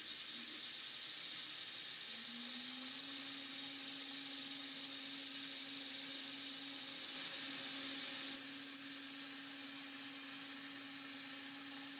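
Grinding a tool to face-plunge wheel adaptors on a lathe or grinder: a steady, continuous whine with a constant tone running throughout, moderately loud and close, with no talk.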